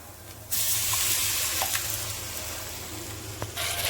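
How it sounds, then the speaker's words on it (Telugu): Cooked dal poured into a hot tempering pan with ginger-garlic paste, turmeric and asafoetida bursts into a loud, steady sizzle after a quiet start, holding strong for several seconds with a brief swell near the end. "ముందుగానే ఉడకబెట్టుకున్న పప్పు వేసుకుందాం"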